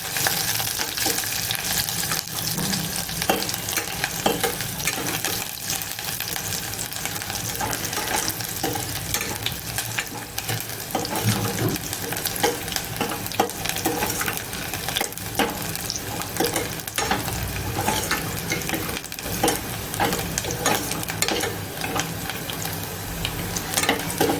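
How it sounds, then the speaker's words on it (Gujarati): Onions frying in a pan until brown, a constant busy sizzle with scraping and stirring noises throughout, heard close and steady with no talking. "કાંદા આપણે બ્રાઉન રંગમાં થવા દઈશું"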